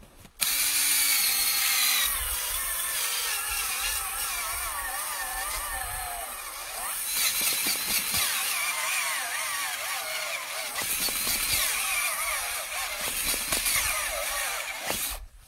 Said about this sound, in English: Battery's getting a little weak on the drill